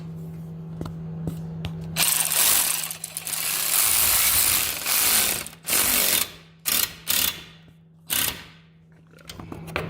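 A ratchet tightening 10 mm bolts on a plastic radiator of a 2007 Pontiac G6 makes loud, close bursts of rapid clicking, starting and stopping repeatedly with short pauses between runs.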